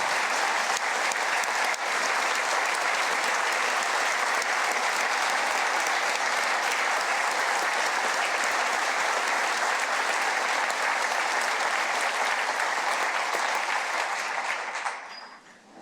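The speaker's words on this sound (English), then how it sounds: "Please join me in giving Mel a round of applause today." Sustained, dense audience applause at a state of the state address, loud and steady for about fifteen seconds before cutting off abruptly.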